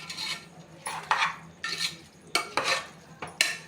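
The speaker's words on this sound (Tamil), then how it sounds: "இப்போ கிண்டுறோம் பாருங்கள்" Chicken biryani tinted with kesari colour powder is stirred in a pot, giving a series of close, scraping spoon strokes in irregular bursts over a faint sizzle, with no talking.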